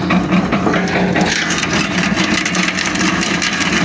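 A Shablia 150 wood chipper grinds fruit tree branches in a village farmyard in winter, a loud steady mechanical roar with crunching, splintering wood running continuously and close up.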